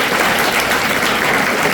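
Audience clapping at a motivational speech event, a dense loud burst of many hands applauding together, continuous and close for the whole short stretch.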